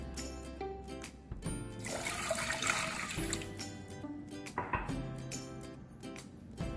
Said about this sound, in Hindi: 2 कप पानी शामिल करेंगे।